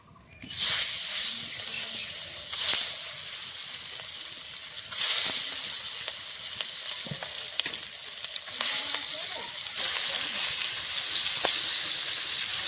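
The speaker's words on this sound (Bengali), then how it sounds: "কড়াইতে সর্ষের তেল দিয়ে দিয়েছি, গরম হয়ে গেছে। এখন মাছগুলো দিয়ে দেবো।" Rupchanda (pomfret) fish pieces dropped into hot mustard oil in a kadai, giving a loud, steady close sizzle that swells each time another piece goes in and keeps crackling throughout without talking.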